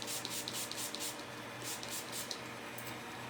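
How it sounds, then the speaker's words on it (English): A few quick hissing bursts from a spray bottle in a quiet room, spaced unevenly, each short and close, with faint handling noise between them. "and I spray it"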